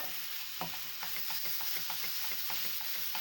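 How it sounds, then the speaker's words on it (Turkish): Roughly 300 grams of medium-fat minced meat sizzling in a hot pan, with a steady broadband fry and regular scraping strokes of a stirring spoon about twice a second, close and alone without talk. "Bir güzel kavuracağım bunları."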